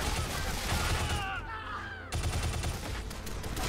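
Rapid bursts of gunfire from the side-scrolling shooter game Shadow Complex, a dense, loud volley that briefly thins midway before resuming hard, with no talking over it.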